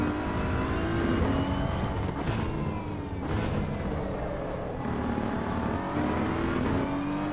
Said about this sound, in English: hear that traction control grinding in